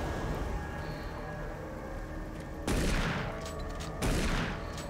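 Gunfire in Doom 3 aimed at a flying enemy, two loud broadband bursts standing out over a steady rumbling game background, each blast decaying quickly.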